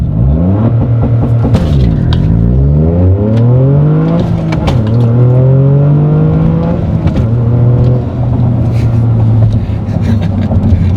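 A 350-horsepower Toyota GR Corolla launches hard and accelerates, its engine note climbing loudly through the revs with distinct shifts and renewed rises, close and continuous throughout.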